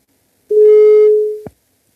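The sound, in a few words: telephone call tone while calling a radio listener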